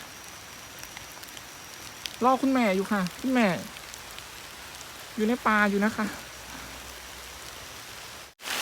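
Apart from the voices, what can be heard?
rain falling in forest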